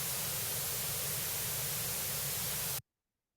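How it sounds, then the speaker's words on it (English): Computer-generated white noise at low amplitude plays as an even, broadband hiss for under three seconds, then cuts off abruptly into silence. "So this is a white noise. Let me play this one."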